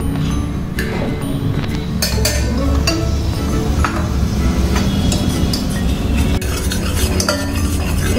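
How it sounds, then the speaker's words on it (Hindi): Flour is roasted in melted butter over a medium flame while a spoon stirs and scrapes it around the pan, giving loud repeated clinks and scrapes over a steady sizzle. "इसे हम मीडियम फ्लेम पे ही भूनेंगे।"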